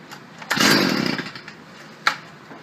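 A Stihl FS 55 R string trimmer is pulled on choke: a short rough burst of engine noise that fades, then a second brief pull, nearby with no speech.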